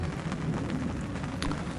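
Rain falls steadily outdoors at a crucian carp fishing spot among submerged trees, a dense, even hiss of drops with no clear voices.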